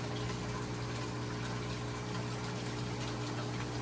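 A new Hygger water change pump runs steadily on a 40-gallon fish tank, giving a constant dense whir of motor and gushing water with no pauses from start to finish.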